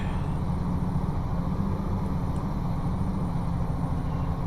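Large truck with a Caterpillar engine climbing a slippery construction road in a driving game, a low, steady engine rumble at moderate distance with no talk.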